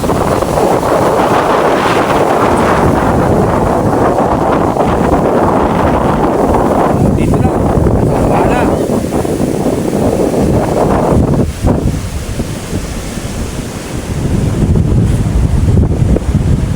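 Strong wind buffets the microphone while large waves surge and crash during Typhoon Ompong, a loud, continuous roar that dips briefly near the end before building again.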